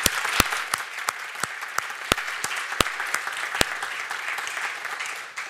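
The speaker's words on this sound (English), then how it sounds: "I think we should all give Bjorn Ola a round of applause for his work." Applause from a conference audience for a keynote on the geopolitics of sustainability, a steady mid-level wash of many hands clapping with a few sharp, close individual claps standing out, fading slightly near the end.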